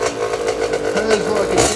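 A small kids' motocross bike built for backyard riding runs with a steady, fairly quiet mid-pitched engine drone and light clatter, close by, with faint voices alongside.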